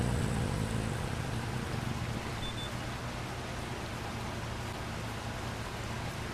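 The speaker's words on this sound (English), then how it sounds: "Boy, that is a heavy rain considering how long it's been going on." Heavy rain falls in the farming video game Farming Simulator 25, a steady even hiss of dense rainfall with a low rumble beneath, continuous and moderately quiet with no voices.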